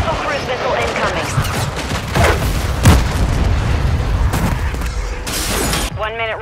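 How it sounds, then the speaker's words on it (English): A cruise missile strike in Call of Duty lands as heavy, booming blasts with crackling debris, loud and close, stacked over ongoing game noise and a burst of gunfire. "Hostile cruise missile incoming."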